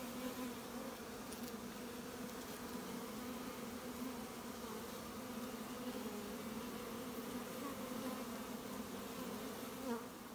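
Honey bees at a nucleus hive fly in and out carrying canola pollen and nectar, making a steady, dense buzzing drone that stays even from start to end without any voices.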